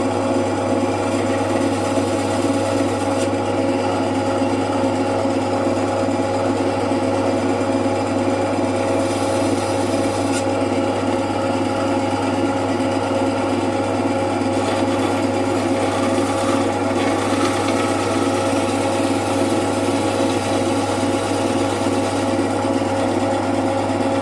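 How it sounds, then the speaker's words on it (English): A bandsaw runs steadily while cutting wood slabs for a carved pointer dog head, a constant close mechanical hum and whine that holds unchanged throughout, with no voices. "So that's the next job on the bandsaw."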